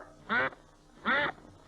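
A duck quacks twice, close and clear, with two short nasal calls spaced about a second apart against a quiet background.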